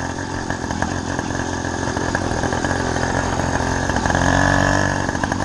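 A Chinese-made motorcycle engine runs loud and close, a rough buzzing drone that swells slightly as it revs, with no voices.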